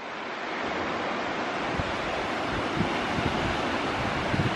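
Ocean waves wash onto a beach in Santa Barbara in a loud, continuous hiss of surf, mixed with gusty wind buffeting the microphone.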